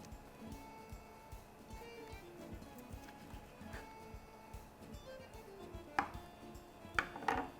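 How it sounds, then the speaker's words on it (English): A knife cuts into a lamb burger on a board with repeated soft thuds and scrapes, ending in a few sharper knocks, while a person talks faintly alongside. "Let me cut into this burger and show you what a beauty it is on the inside."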